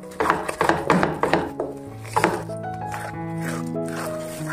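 A long wooden spoon scrapes and knocks through thick Goan channa doce in a thick-bottomed vessel, a run of rhythmic dull thuds and rubs, followed by a sustained tonal hum with no speech.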